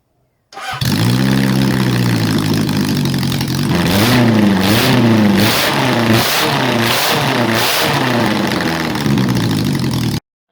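A restored Honda CB750 four-cylinder motorcycle engine cranks and catches, then runs loud and close with a throbbing idle and a few throttle blips rising and falling.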